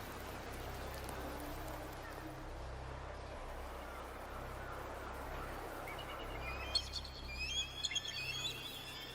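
Steady rain hiss in the game Wuthering Waves, a broad constant wash with low rumble, joined near the end by bright chirping bird calls as the shower fades.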